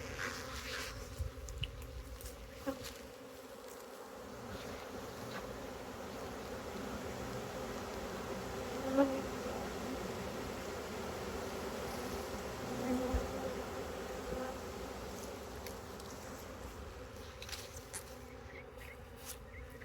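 Honeybees buzz steadily throughout a package install at a hive, a dense, continuous hum from many insects close by, with occasional individual bees droning louder as they fly near.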